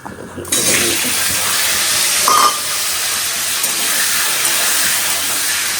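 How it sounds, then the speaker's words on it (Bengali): Water poured out steadily in a home kitchen while paneer is being prepared, a continuous loud hissing splash that runs for several seconds with a brief brighter burst midway. "জলটা ফেলো"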